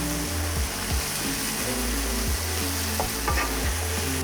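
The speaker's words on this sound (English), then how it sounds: "saute that directly on the frying pan surface just to help it develop a little flavor" Chili sauce ingredients with doubanjiang sauté in a frying pan, a loud continuous sizzle with low rumbling and occasional scraping from stirring, close and without talk.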